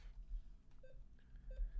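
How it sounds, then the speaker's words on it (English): A few short, faint electronic beeps from neurofeedback software sound at spaced intervals over a quiet background hum. "Okay, now it's beeping."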